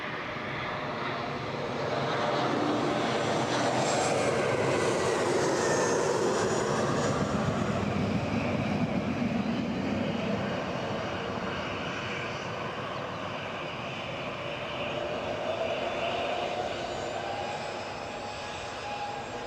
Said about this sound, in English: Right, so Embraer 190, sorry, in from Amsterdam